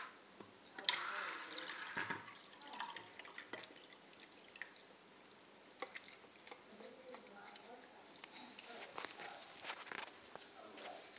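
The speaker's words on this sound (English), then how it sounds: "Mama's going to pour you some water in here." Water trickles and splashes as it is poured into a pet bowl for a mini pig, with soft dripping and footstep-like shuffles nearby, and a voice speaking over it at times.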